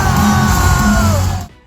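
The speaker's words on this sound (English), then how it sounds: "throwing in another clip of us screaming from the concert really quick" Concert crowd at the Sonic Symphony screaming and yelling together, a loud sustained roar of many voices that cuts off abruptly near the end.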